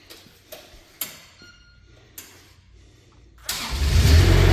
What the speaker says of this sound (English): Look at your Kubota engine. We're going to go ahead and fire it up here.